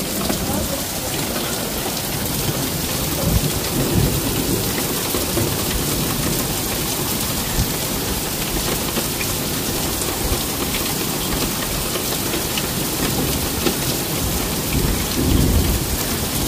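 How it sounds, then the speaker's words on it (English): A heavy thunderstorm with hail in Cheltenham, Gloucestershire, UK: dense, loud, unbroken rain and hail hiss with low rumbling thunder underneath, swelling slightly near the end. "Another big flash. Look at the size of them hailstones."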